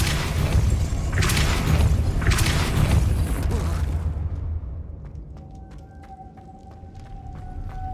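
Depulso spell cast in the Hogwarts Legacy game: a booming magical blast with deep rumble for a few seconds, then fading into quieter ambient tones and small chimes.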